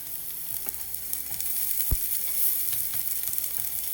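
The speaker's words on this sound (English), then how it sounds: "I drop in garlic, ginger that we minced earlier, and the onion." Minced garlic, ginger and onion dropped into a very hot pan: a constant bright sizzle with small crackles throughout and one sharp pop near the middle, close up and with no one speaking.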